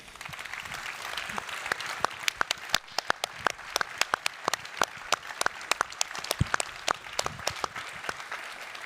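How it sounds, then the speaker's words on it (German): Enthusiastic audience applause: many hands clapping densely and steadily, with sharp individual claps standing out, sustained for several seconds at a moderate distance. "Ich denke, Sie haben sich alle einen Applaus verdient."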